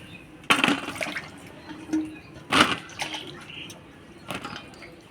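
Cut pointed gourds are washed by hand in water, with several splashing, sloshing bursts close by and quieter trickling between them.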